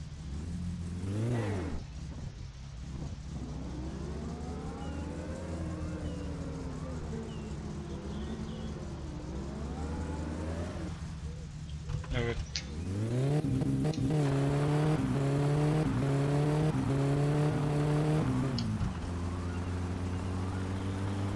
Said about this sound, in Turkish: Araba süper gidiyor şu anda.